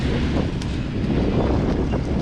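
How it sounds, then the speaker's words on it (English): Strong wind buffets the microphone at the Nurburgring circuit, a steady low roaring rush with gusting rumble and no voices. "It's very windy and very cloudy at the moment."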